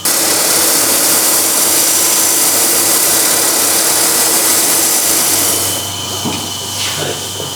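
Loud, steady whine of a spinning lathe with a vacuum chuck roaring alongside as a wooden bowl is sanded; the noise eases slightly near the end.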